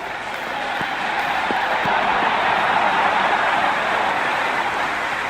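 A packed stadium crowd roars during a cricket match in the Cricket 26 video game, South Africa against Pakistan. The roar is a dense, steady wash that swells slightly midway and holds loud throughout, with no voices standing out.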